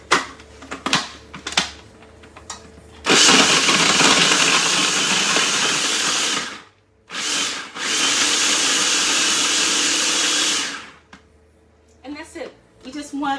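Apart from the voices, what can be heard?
food processor grating cheese rind into crumbs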